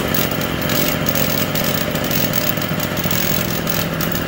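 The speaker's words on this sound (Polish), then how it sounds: "Włączamy ssanie, odpalamy." A TG-950 petrol generator engine runs on choke just after starting, a loud, steady, rough mechanical drone with fast rhythmic firing pulses, close to the microphone and with no voices.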